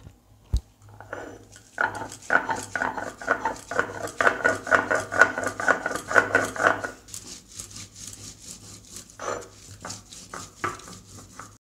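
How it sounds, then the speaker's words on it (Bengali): Green chillies and coriander leaves ground together on a shil-nora grinding stone: close, steady back-and-forth rubbing strokes in a regular rhythm, followed by looser scraping and a few knocks. "এই যে কাঁচা লঙ্কা আর ধনেপাতা একসঙ্গে আমি বেটে নিচ্ছি শিলনোড়াতে"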